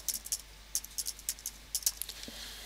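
Quick, light keystrokes on a computer keyboard as an email address is typed, clicking in short irregular bursts with brief pauses, close and clear over a quiet room.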